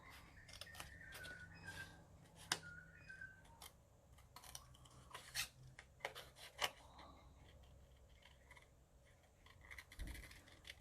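Scissors snipping around a stamped paper image in short, quiet, irregular cuts, close by, with small paper rustles between the snips.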